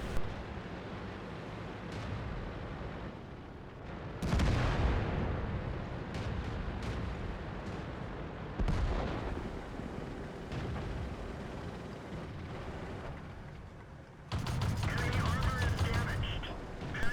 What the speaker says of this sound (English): The joy of shooting at backs of tanks with the autocannon, where you put multiple rounds in them